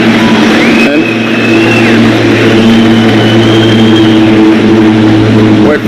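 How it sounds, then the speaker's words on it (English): An airplane drones overhead with a steady, low engine hum, loud and sustained through the whole stretch, while a person speaks briefly over it at an outdoor event presenting the Tesla Semi truck. "wait for that plane."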